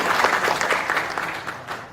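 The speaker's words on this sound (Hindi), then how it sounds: "एक बार जोरदार तालियां आप सारे लोगों को बजाना चाहिए।" A crowd at a speech gathering claps in a brief, moderately loud burst of applause, uneven and tapering off toward the end.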